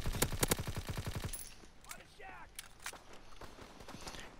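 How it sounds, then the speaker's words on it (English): Rapid gunfire bursts in a shooter video game, a quick train of loud shots followed by scattered sniper cracks, footsteps and game effects under faint background voice chatter. "Those are some nice sniper shots."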